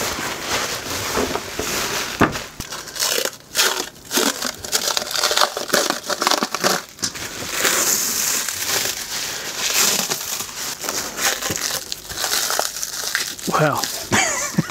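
Plastic packaging from a mailbag parcel crinkles and crunches loudly and almost continuously up close as it is unrolled, with someone talking intermittently over the rustling.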